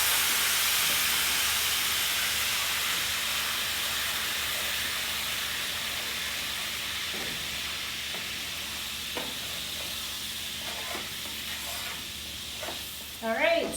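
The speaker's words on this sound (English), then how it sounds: "Put that in and let that cook down" Cognac reducing in a pan gives a steady, broad sizzling hiss that holds evenly throughout, with a few faint clinks near the end.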